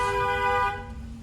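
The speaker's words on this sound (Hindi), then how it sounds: "लॉन्ग हॉर्न पुश करो।" A long, steady car horn honk during a driving lesson in narrow lanes, loud and close for most of a second before cutting off into quieter engine and street noise.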